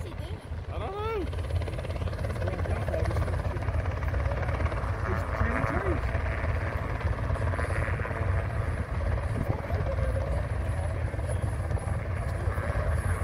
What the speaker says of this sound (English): The helicopter just came in and stirred up all the dust.